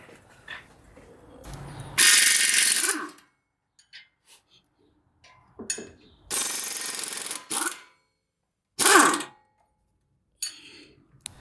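A ratchet wrench loosening 19 mm strut bolts on a 2015 Subaru WRX, with several separate bursts of rapid clicking cranks, close and fairly loud, between quiet gaps.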